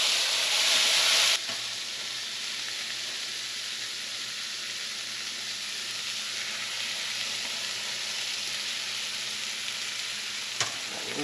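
Garlic and herb butter sizzles loudly in a very hot pan, a steady dense crackle throughout with a brighter burst in the first moment, no voices.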